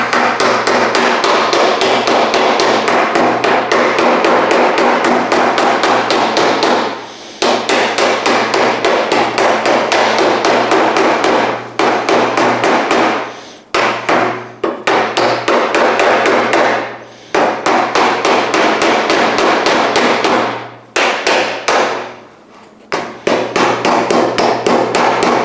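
Sheet metal of a 1970 El Camino tailgate being hammered on a tape-covered dolly, rapid loud close metallic blows in long steady runs separated by brief pauses.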